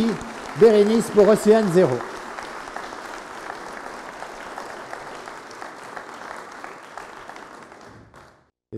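An audience at a French awards ceremony applauds a winner with steady, sustained clapping. A presenter's voice carries over the opening moments, and the applause fades out toward the end.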